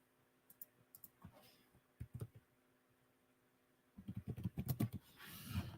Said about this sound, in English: Where am I typing?